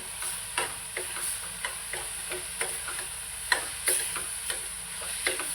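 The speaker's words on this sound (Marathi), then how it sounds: "मी मसाला टाकलेला आहे मिक्स करून घेते" Masala being stirred into onion and tomato frying in a kadai, a constant sizzle broken by regular scraping spoon strokes about twice a second, close and even, no speech.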